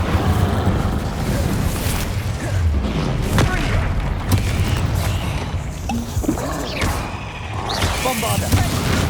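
Incendio fire spell cast in Hogwarts Legacy, a dense roaring whoosh of flames with rumbling booms and crashing impacts layered over continuous game action and music.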